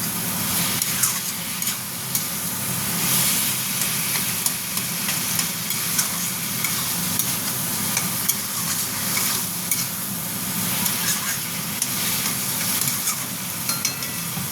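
Yardlong beans being stir-fried in a pan for a prawn dish with pointed gourd make a continuous close sizzle, broken by frequent scraping stirs and small crackles.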